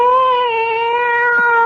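Cat meowing as a radio drama sound effect: one long, loud, drawn-out meow heard close and alone.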